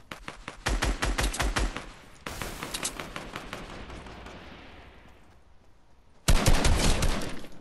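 Rapid bursts of video game gunfire crackle loudly, a dense volley, a lull with lingering echo, then another loud burst near the end, with no talk.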